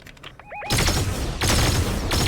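Gunfire in the video game Fortnite: a brief electronic chirp, then loud sustained bursts of shots filling the rest, with a short gap before another heavy barrage, no talking.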